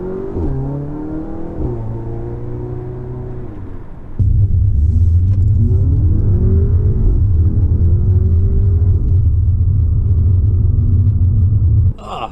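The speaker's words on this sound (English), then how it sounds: "I'll run the car through the gears, do some shifting" An Audi A3/S3 with a DSG gearbox and APR Pendulum and Dogbone mounts revs up, its pitch climbing, then drops into a loud, steady low engine rumble that holds for several seconds as it runs through the gears.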